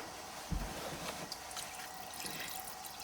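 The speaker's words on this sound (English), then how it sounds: "I'm gonna add enough liquid so that these chicken pieces are completely covered" Cold water pouring and splashing into a stock pot over chicken pieces, a steady liquid rush with a few louder splashes, fairly quiet and close.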